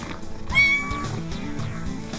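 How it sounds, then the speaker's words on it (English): A kitten gives one clear, high meow, close and prominent over a soft rhythmic beat of children's learning music. "The kitten."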